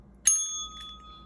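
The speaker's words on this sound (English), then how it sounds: "that deserved a bell ring" A single bright bell ding rings out sharply and then sustains, its clear tone slowly fading over about a second.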